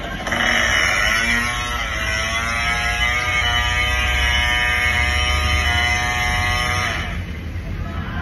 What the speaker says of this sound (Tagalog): Loudest pipe din yata ito.